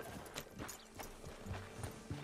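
Horse hooves clop in a steady walking rhythm in Red Dead Redemption 2, several soft footfalls at a fairly quiet level over low game ambience.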